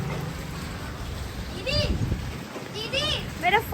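Rain falls outdoors on a road as a steady, close hiss of drops and splatter throughout, while people talk over it.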